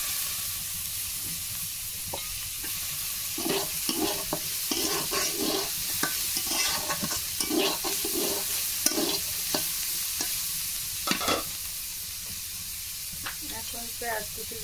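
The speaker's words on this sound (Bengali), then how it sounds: "এখন পেঁয়াজ কুচি দিচ্ছি" Chopped onion and green chilli fry in a pan under a steady sizzle while a spatula stirs them in repeated scraping strokes, close and fairly quiet, with the hiss continuing throughout.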